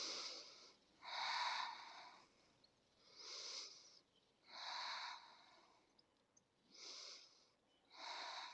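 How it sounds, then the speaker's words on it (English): Slow, deep breaths during a hamstring stretch, each inhale and exhale a soft airy whoosh lasting about a second, about six in a steady rhythm with short pauses between, close and quiet. "Take 5 nice deep breaths there."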